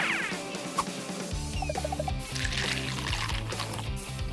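Water pours into a tiny DIY pet water park, a soft steady trickle heard faintly under busy background music.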